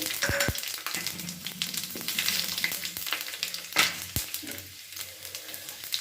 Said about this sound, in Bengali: এখানে তেলটা গরম আছে এবার আমি তেলের মধ্যে পাঁচ ফোড়ন একটা শুকনো লঙ্কা আর তেজপাতা এতে দিয়ে দিলাম